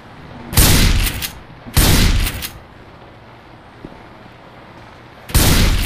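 Gunfire in the video game Left 4 Dead 2: three loud bursts of rapid shots separated by quiet gaps, sharp and close with no talking over them.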